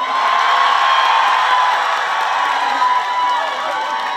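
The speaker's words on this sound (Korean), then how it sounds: "꽃도 주시고 박수도 주시고 소리도 막 그대로 질러 주셔가지고" A festival crowd at the Yeongdong grape festival cheers and applauds for a trot singer, a steady wash of clapping and shouting that fades slightly toward the end.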